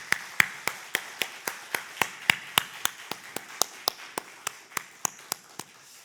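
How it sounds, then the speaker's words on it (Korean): Church congregation clapping together in a steady, evenly spaced rhythm, about three claps per second, each one crisp and distinct over a quiet room, continuing for six seconds. "우리 박수로 한번 우리 선교회 진행하겠습니다."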